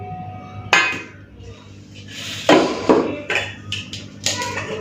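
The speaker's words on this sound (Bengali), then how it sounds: "এরপরে ভাতটা বেড়ে নিই" Rice being served for a home lunch: dishes and cutlery clink, scrape and clatter in irregular bursts, some knocks sharp and close, over a low background hum.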